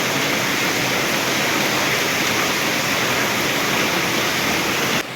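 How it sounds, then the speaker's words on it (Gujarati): Heavy torrential rain pouring onto a flooded courtyard, a dense, loud, unbroken roar of falling water that stays constant before dropping slightly at the very end. "એટલો અનરાધાર વરસાદ આવ્યો અત્યારે થોડોક એમ થયું કે ધીમો પડ્યો છે"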